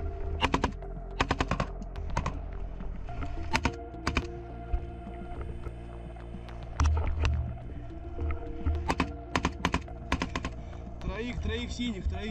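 Direct gunfire on Ukrainian bunkers, sharp close bursts and single cracks repeating in irregular clusters over a steady low drone, with speech briefly over it.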